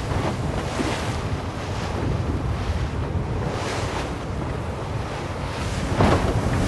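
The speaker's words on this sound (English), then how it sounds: "The breeze and the waves have definitely increased as the boats head into the ocean." Ocean waves and strong wind buffet a J Class sailing regatta off Newport, a constant loud roar of surf and gusting wind noise across the microphone with no voices.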